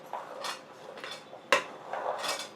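Chopped pomegranate and banana pieces mixed in a bowl, giving several soft clinking and scraping strokes of a spoon against the dish, with one sharper knock partway through, close and fairly quiet.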